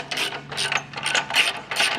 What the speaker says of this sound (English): We're going to use a 3/4 inch ratchet and socket.